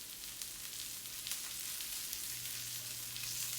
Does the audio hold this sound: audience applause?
no